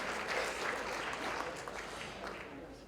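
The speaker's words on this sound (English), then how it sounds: "A round of applause for Patricio." Steady applause from an audience at an Arab engineers' award ceremony, a continuous dense patter of many hands clapping for a recipient, moderately loud and fairly even throughout.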